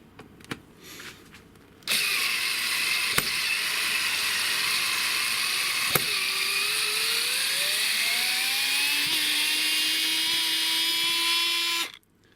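A Fanttik NEX L1 Pro electric screwdriver drives a screw into pre-drilled wood with a steady motor whine that rises in pitch for about ten seconds, then cuts off; a few clicks come before it starts.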